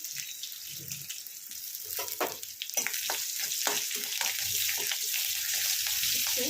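Green chillies frying in oil in a pan for upma, a steady sizzling crackle with stirring scrapes, louder and denser in the second half, close and continuous without talk.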